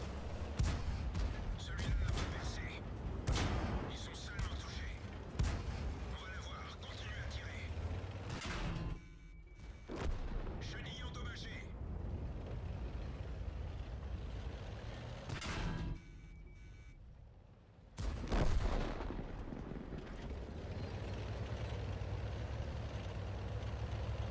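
Tank cannon shots in World of Tanks, with the AMX 13 57 engaging an enemy tank: a series of sharp, heavy booms amid mechanical rumble, spaced unevenly across the scene.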